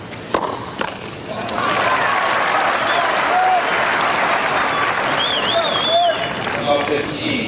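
A tennis crowd at the 1987 Key Biscayne final between Chris Evert and Steffi Graf bursts into sustained, dense applause that swells and holds steady, with a few whistles and cheers mixed in.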